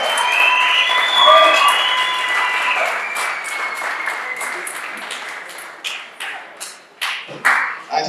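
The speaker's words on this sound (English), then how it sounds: "Please give him a round of applause." Audience applause welcoming a CEO onto the stage at a TESA event, a crowd clapping loudly and steadily, then thinning into scattered individual claps toward the end.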